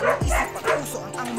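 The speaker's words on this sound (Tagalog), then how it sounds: "Ang daming aso." Several dogs bark and yip close by in a quick, irregular burst, with people talking over them.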